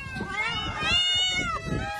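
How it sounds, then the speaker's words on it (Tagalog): Several thin, starving cats in an impounding facility in Barangay San Jose, Dasmariñas, Cavite, give continuous wavering meows, loud and close, with a voice talking over them throughout. "Nangangayat at tila hindi mapakali ang mga pusang ito sa impounding facility sa Barangay San Jose"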